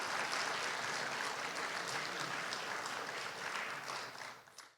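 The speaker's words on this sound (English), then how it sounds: "Let's give them a round of applause just for being here." Audience applause fills a hall honoring special guests from Israel at an event about Nova festival survivors, steady and dense for several seconds before fading out at the end.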